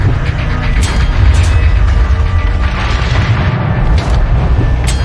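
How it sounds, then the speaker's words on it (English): A destroyer blowing up in the naval battle game World of Warships, with a continuous heavy rumbling boom and sharp cracking bursts layered over dense, loud battle noise throughout. "destroyer blown up."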